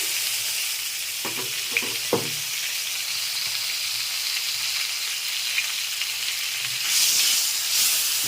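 Prawns sizzling in hot oil in a pan while a Bengali spinach dish is prepared, a steady close broadband fry with a few clinks of a spatula early on and a brief swell of hiss near the end, no voices.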